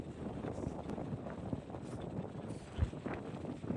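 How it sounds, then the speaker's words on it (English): Strong wind rumbles across a camera microphone in a huge open prairie-dog field at Theodore Roosevelt National Park, a steady low roar with a few sharper gust thumps. "It was an incredibly windy day and I was having a difficult time holding the camera steady"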